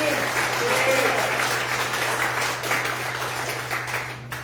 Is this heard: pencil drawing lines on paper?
no